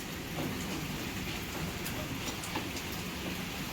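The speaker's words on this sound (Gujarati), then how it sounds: "વરસાદ ચાલુ થઈ ગયો છે અત્યારે." Continuous rain patters down in a broad, rushing hiss, with a few sharper drops standing out against the steady wash.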